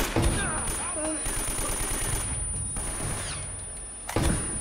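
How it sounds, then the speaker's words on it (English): Gunfire in the Uncharted: Drake's Fortune video game, with bursts of shots over a steady game soundscape and a louder crack near the end, under a player's occasional talk. "Where's that gunfire coming from?"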